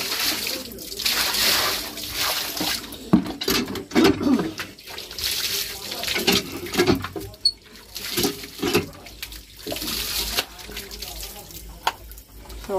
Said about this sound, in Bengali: তো এখন হাত পা ধোয়াচ্ছে, ভাই আগে ধুচ্ছে, তারপরে আমি ধোবো।